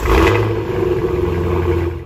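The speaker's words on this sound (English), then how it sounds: "out of the exhaust, you do get some, get good noise" A 2023 Cadillac CT5-V Blackwing with a 6.2L V8 gives a deep, loud, steady exhaust rumble close by, with one brief rev at the start. No one speaks.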